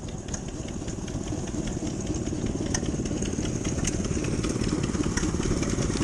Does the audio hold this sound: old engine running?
yes